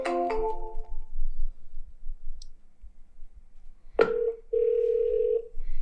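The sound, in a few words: phone dialer placing an outgoing test call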